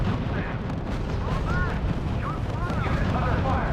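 Heavy artillery fire pounds units in the WWII strategy video game RUSE: dense, rumbling low booms that run continuously, with voices talking over the barrage.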